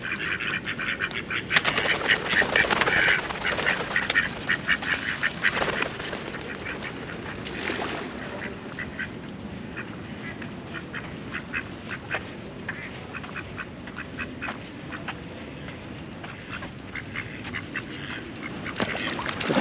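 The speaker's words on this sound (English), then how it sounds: "Now this is one of my favorite parts of the canal, is all the ducks." Ducks and geese quack and honk along the Venice Beach canal in Los Angeles, a busy flurry of nearby calls that is densest early on and then thins to scattered quacks over soft outdoor background.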